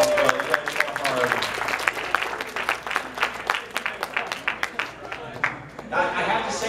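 Scattered audience clapping at a convention game show, a modest crowd of individual claps with uneven rhythm, fading and swelling, with a voice talking over parts of it and near the end.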